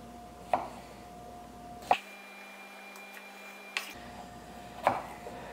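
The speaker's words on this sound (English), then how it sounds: "This knife is a lot more rigid, but it's still cutting beautifully" A knife cutting pasture-raised Italian sausage while cooking gives four sharp, separate chops spaced a second or two apart, close and crisp over a quiet background hum.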